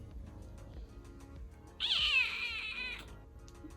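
A cat lets out a single loud, drawn-out meow lasting about a second, close by, over a quiet room background with no talking.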